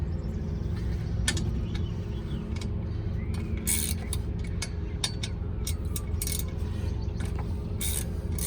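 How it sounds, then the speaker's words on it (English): Rapid ratchet clicking in short bursts as a wrench backs out two 12mm bolts on the exhaust sensor of a UD 2600 truck, fairly close, over a steady low mechanical hum. "You got to take out two 12mm bolts."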